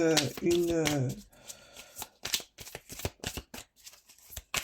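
Tarot cards being shuffled and drawn during a French-language reading, soft papery riffles and flicks following a voice, the card sounds quiet and close with scattered talk.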